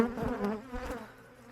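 A close, humming drone of honeybees swarming around an open autumn hive, louder at first and then easing slightly, with no talk.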